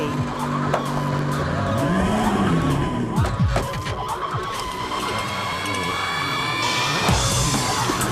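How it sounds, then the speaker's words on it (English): Rally cars race over rocky, dusty roads in Cyprus during the 2006 WRC event, with a continuous loud engine roar, gravel noise and tire squeal. Crowd yells and voices can be heard in the mix. "The cars take a pounding on the rocky roads."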